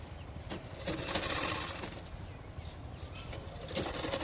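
A sewing machine stitching lines through fabric for a decorative sleeve design runs in a continuous rapid mechanical whir with faint clicks, close and moderately loud, no voices.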